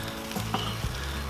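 Chicken wings sizzle over direct heat on a Weber kettle grill, a steady close crackle and hiss with a few soft clicks from moving them, and no voices.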